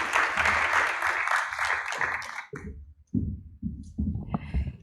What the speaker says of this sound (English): Let's all give everyone a round of applause again, please.